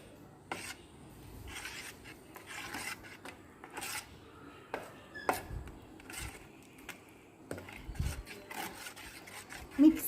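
Semolina stirred with hot water and rice flour in a bowl for rava appam batter, heard as irregular scraping and rubbing strokes of a spoon, close and fairly quiet, with no talking.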